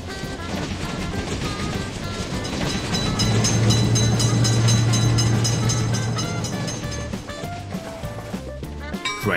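At a railroad crossing a passing train fills the air with heavy rumbling and rhythmic rail clatter, peaking midway with a sustained low tone before easing off.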